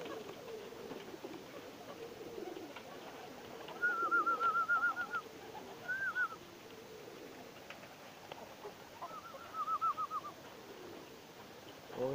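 Playful tumbler pigeons give soft, trilling coos in three short bursts, fairly faint and slightly distant, over a low outdoor background hum.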